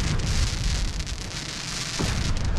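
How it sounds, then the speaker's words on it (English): Fireworks bursting in the Fallout 4 Nuka-World DLC, a dense rumbling wash of distant booms and crackle that stays loud and continuous, with one sharper thud near the end. "Ooh, I think we have fireworks going off."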